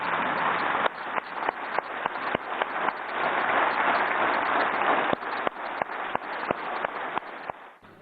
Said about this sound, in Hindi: मैं चाहूंगा कि सदन एक बार खड़ा होकर तालियां बजाकर उनका अभिवादन करे